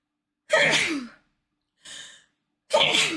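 Two sharp sneezes with a quieter breathy exhale between them, close and loud against silence.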